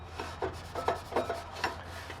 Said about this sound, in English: In those stubborn areas, we're going to use a silicone brush.